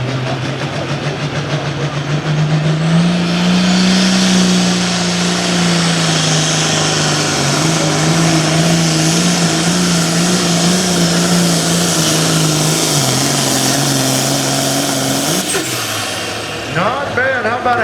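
A John Deere pulling tractor revs hard through a tractor pull, its loud, close engine roar holding a strained drone that rises and dips steadily for about fifteen seconds before cutting off abruptly.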